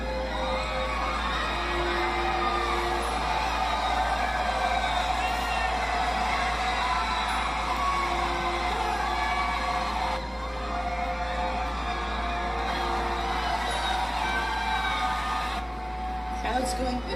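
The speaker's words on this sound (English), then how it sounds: "Crowd's going bananas" A crowd cheers and whoops after a marriage proposal, a continuous roar of voices with shouts rising over it. People talk throughout.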